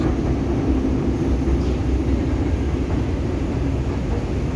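A Paris train runs from Gare de Lyon toward Saint-Lazare, giving a steady, loud low rumble and hiss of carriage and track noise throughout, with no talk.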